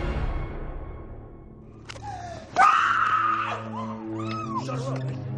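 A woman lets out a sudden, sharp scream in a tense dramatized scene, one loud cry that bursts out midway and trails into wavering moans, over low background rumble.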